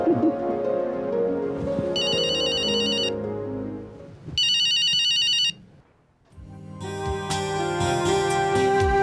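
A phone ringtone trills in two separate bursts with short gaps between them, clear and loud over low indoor music, as an unanswered call to Rajeev rings out before a brighter musical swell takes over.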